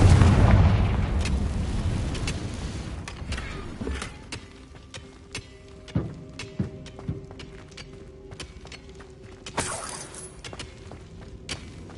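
A Confringo blast spell goes off in a magic-themed video game with a deep, rumbling boom that slowly fades, followed by a series of sharp clicks and thuds from the game.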